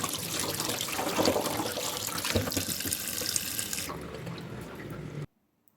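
Goat heart and kidneys rinsed under a running tap, a steady close splash of water into a sink that stops abruptly near the end.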